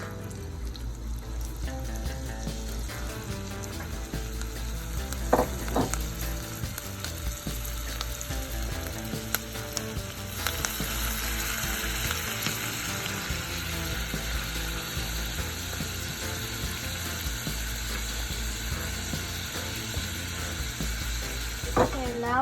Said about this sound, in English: now we're gonna make our butter sauce for our lobster tail.